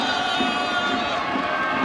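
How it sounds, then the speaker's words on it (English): Crowd noise from a student section at a high school boys basketball championship game, a steady roar of cheering and applause filling a gym. "continues to applaud their Bulldog team."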